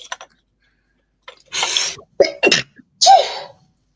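A sharp sneeze during a relaxed model kit building chat, heard as a quick inhaled catch followed by a couple of loud, close bursts, with a brief pause between them.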